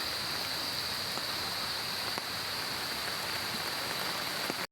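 Light rain falling steadily, a soft continuous patter with occasional faint drips and no voices.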